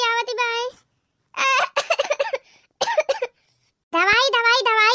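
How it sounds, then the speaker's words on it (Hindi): Repeated harsh coughs come in short bursts, mixed with excited chatter between them, close and loud. "बड़ी जोर खांसी आवत भाई"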